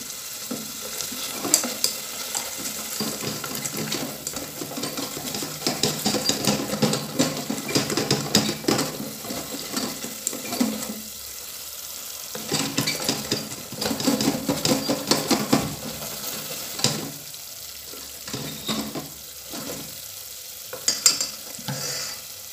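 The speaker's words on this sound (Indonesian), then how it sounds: "suara minyak yang panas" Hot oil sizzling as spices fry in a pan, a continuous crackling hiss with bursts of stirring and clatter, close and fairly loud, no talking.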